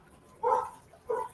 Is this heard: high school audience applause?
no